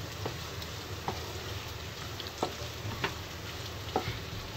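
Raisins stirred and roasted in a pan for sheer khurma, giving a steady soft sizzle broken by several sharp spoon-scrape clicks against the pan, close and moderately quiet with no talking.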